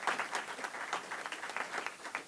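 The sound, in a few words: audience applause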